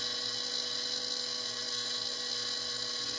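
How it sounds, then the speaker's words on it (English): A 6-volt battery pulses a relay in a Hendershot fuelless generator, giving a faint, steady electrical buzz that runs unbroken throughout, with no talking. "the battery is just essentially pulsing this relay"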